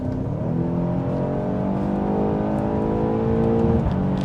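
A BMW X6M pulling away and accelerating, engine tone climbing steadily through the gears with a smooth, moderately quiet exhaust note, heard from inside the car without talk.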